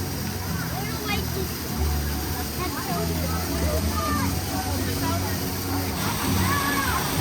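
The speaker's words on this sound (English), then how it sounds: "Waterfall." Waterfall at the Journey of Water attraction at Epcot, a steady rushing wash of falling water heard nearby beneath frequent talking from people.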